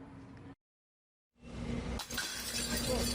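Confiscated liquor bottles, more than 8,700 of them, are smashed by police in Bogor: loud continuous shattering and clinking of glass breaking, with a brief silent gap before the crashing resumes and swells.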